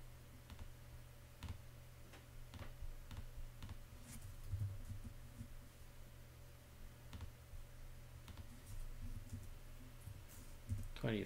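Mouse clicks on a computer, a series of sharp isolated clicks at uneven intervals, close and quiet over a faint background hum.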